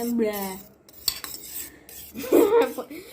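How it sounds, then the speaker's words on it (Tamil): Eggs are beaten in a bowl for French toast, with a utensil clinking and scraping against the dish in irregular quick strokes. A short vocal sound is heard near the start. "முட்டையை கலக்கிறதுக்கு என்ன பண்ணோம்னா இந்த மாதிரி பீட் பண்ணது"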